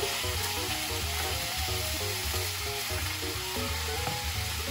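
Chicken sizzles and fries steadily in a pan for a creamy mandarin sauce dish, a loud, continuous crackling hiss close up with no talking.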